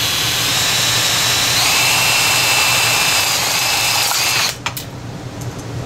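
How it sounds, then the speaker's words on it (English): A power drill with a 1/2 inch bit drilling out an air restrictor whines steadily at high pitch, close up, then cuts out abruptly near the end, leaving quieter background noise. "Here I have my 1/2 inch drill bit and plunger tube. I'm just going to gently go in."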